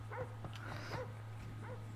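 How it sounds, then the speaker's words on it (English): Several short, yappy dog barks and yips in Grand Theft Auto V repeat quickly over a steady low electronic hum, fairly faint. "Yeah, it's a dog."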